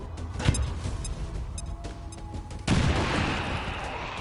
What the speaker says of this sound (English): Grenade out!